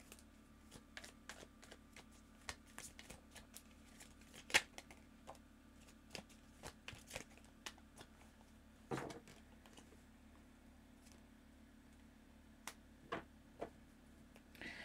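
Tarot cards being shuffled and handled, a quiet, irregular run of soft flicks and taps over a faint steady hum, close but low in level.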